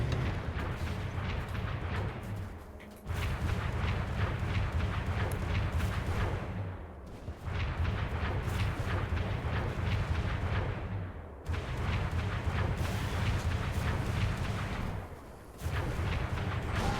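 Repeated heavy grenade blasts and battle booms from Halo 3 gameplay, a dense, loud rumbling barrage broken by brief dips near the start and end of each burst, with no voices.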